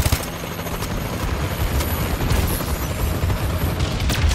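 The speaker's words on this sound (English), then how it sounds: "Friendly Warbird in the air." A Warbird gunship in Call of Duty: Advanced Warfare drones steadily overhead, a loud continuous rotor-like roar layered with dense rattling bursts of distant gunfire throughout a multiplayer Domination match.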